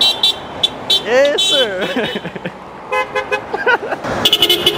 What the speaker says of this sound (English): That's a honk.